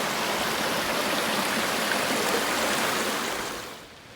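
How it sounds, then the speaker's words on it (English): A small cascade on Belfast Creek rushes in a steady, broadband wash of flowing water, close and continuous with no talk, tapering off slightly at the end. "This little cascade there."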